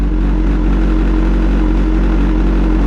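A 2013 BMW HP4 motorcycle engine idling just after start-up, a steady, loud, low mechanical thrum that holds even and close throughout with no voices.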